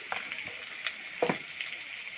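Spices such as turmeric, salt and ground cumin frying in a pan for a crab and leafy greens dish, a steady soft sizzle with a few louder stirring bursts, close and without talk.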